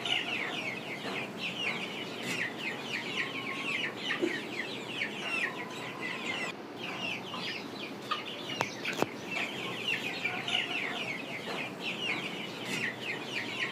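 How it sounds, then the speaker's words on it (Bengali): Tiger chickens, sixty to seventy of them, kept in a small home farm, cluck and chirp continuously at a moderate distance, with overlapping calls and occasional sharper squawks throughout, without any speech. "এখানে 60 থেকে 70 প্লাস টাইগার মুরগি রয়েছে।"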